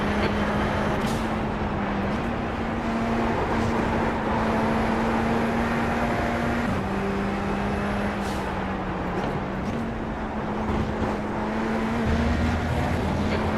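Race car engines in a motor racing video game drone steadily, a sustained tonal engine hum that shifts pitch in steps as gears change, with faint road and tire noise beneath.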